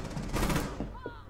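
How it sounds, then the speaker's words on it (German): Gunfire in the video game Rainbow Six: a dense, rapid burst of loud shots over a second, tapering off, with a voice briefly talking at the end. "Ich baller durch."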